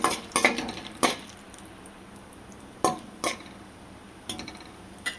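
Hot oil with cumin, mustard seeds and lentils being fried in a pan, a low steady sizzle punctuated by sharp metallic clinks and scrapes of a utensil against the pot at irregular intervals.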